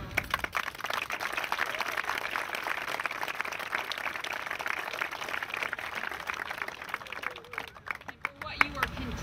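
An audience at a New Orleans charter school event applauds in a long, dense, steady round of clapping that runs almost the whole time before thinning out near the end.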